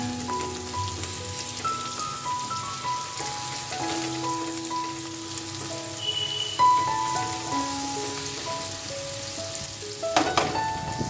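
Finely chopped medium onions fry in a pan, crackling and pattering in a steady, rain-like sizzle close by, with a few brighter pops near the end.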